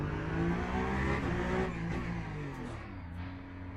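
A Peugeot race car engine in Le Mans Ultimate drones steadily at high revs, loud and continuous, easing off slightly toward the end.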